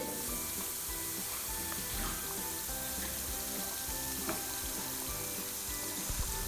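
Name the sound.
prawn fritters frying in hot oil in a pan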